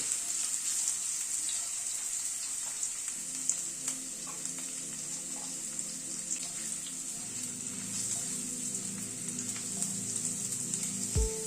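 Potatoes frying lightly in a pan over a raised gas flame, a steady close sizzling hiss throughout with faint clinks and a low hum, no voices.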